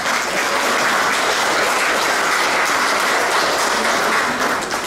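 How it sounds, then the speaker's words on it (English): Loud, sustained applause comes from an audience greeting VIP guests at an Australian flag-raising ceremony held by a Vietnamese community in Victoria. The clapping is dense and continuous, with no speech over it. "Please give a big round of applause for all our VIP guests."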